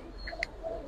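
A faint, brief coo from giribaz or racer pigeons at a pigeon farm, one soft call with a tiny chirp, heard alone.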